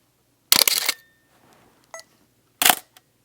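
A medium format camera shutter fires twice, each a loud, close, crisp clack with a short mechanical whir trailing the first, separated by a brief faint click and quiet.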